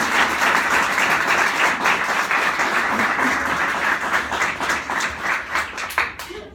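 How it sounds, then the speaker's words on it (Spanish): Loud, close congregational applause in a church service, dense clapping with audible individual hand strikes that grows more ragged and thins out before stopping near the end. "Denle un aplauso al Señor."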